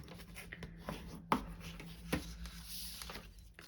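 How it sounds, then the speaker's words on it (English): Basic white cardstock, cut in half and scored, is folded and burnished by hand for a Stampin' Up! card, giving soft close rubbing and scraping with two sharper taps and a low steady hum beneath, no talking. "So I'm just going to fold it and burnish it."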